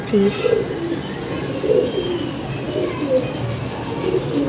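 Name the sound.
pigeon cooing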